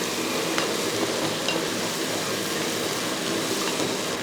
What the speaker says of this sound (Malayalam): ഉള്ളിയും കൂടെ ചേർത്തതിന് ശേഷം നമുക്ക് നന്നായിട്ടൊന്ന് ഇളക്കി നമുക്ക് ഇത് ചെറുതായിട്ടൊന്ന് മൂപ്പിച്ചെടുക്കണം